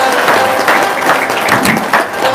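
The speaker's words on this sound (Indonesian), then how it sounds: "Tepuk tangannya kurang kencang." Dense applause from an audience at an Islamic religious talk and entertainment event, steady and fairly loud for a couple of seconds with a crowd-wide wash of claps.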